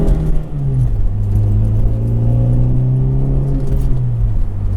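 A Honda CR-Z manual hybrid drives along with a steady, moderate engine and exhaust hum that rises and eases slightly, close by and without talk.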